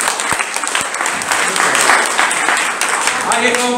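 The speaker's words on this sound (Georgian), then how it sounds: "მიესალმეთ აპლოდისმენტები" Steady, loud audience applause fills the hall throughout a theatre evening honouring film and stage actor Murman Jinoria in Tbilisi, a dense wash of many hands clapping without pause.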